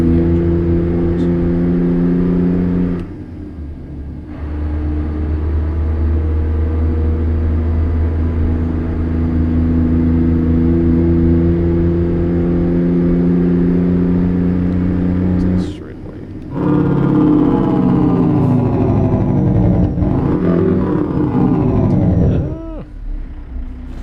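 Modded truck engine in American Truck Simulator, a steady loud droning rumble that drops out briefly twice, then revs up with rising pitch before cutting off near the end.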